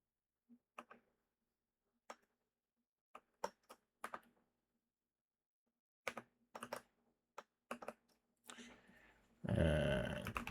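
Keys clacking on a computer keyboard while JavaScript code is written, sparse irregular keystrokes and short flurries in a quiet room, ending in a louder burst of noise.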